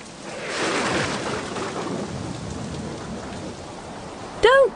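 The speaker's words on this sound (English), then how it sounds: "It's raining." Steady rain hiss fills the scene, a broad wet wash of noise, with a brief sharp tonal sound near the end.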